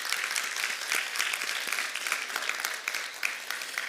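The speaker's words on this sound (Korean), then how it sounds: "우리 하나님께 영광의 박수 한번 올려드리겠습니다." A church congregation at a Sunday worship service in downtown Seattle applauds steadily for about four seconds, a dense, sustained patter of many hands clapping at even loudness, with no voices over it.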